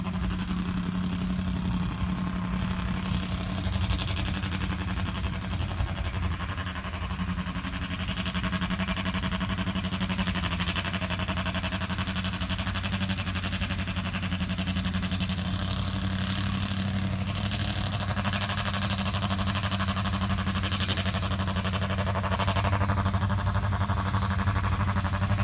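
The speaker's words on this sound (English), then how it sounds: "Hey, I hear a car running." A nitro-fuel dragster engine runs continuously at a drag strip, a steady loud mechanical drone with a low harmonic hum that swells slightly toward the end, no talk.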